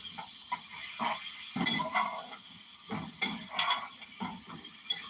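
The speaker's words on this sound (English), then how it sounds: "Stir it really good." Apple pieces and butter are stirred in a pan with a utensil, giving intermittent scraping strokes and soft clinks against the pan in an uneven rhythm, close and fairly quiet.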